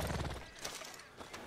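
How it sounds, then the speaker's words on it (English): A large horse in the video game Red Dead Redemption 2, heard as faint hoof clip-clops and a soft whinny over quiet game ambience. "We're just gonna go ahead and take this horse."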